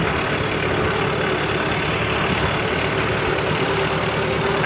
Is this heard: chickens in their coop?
no